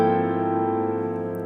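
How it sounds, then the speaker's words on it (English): A single sustained musical chord rings out, steady and full, slowly fading over a second and a half with no voices. "and I played this chord"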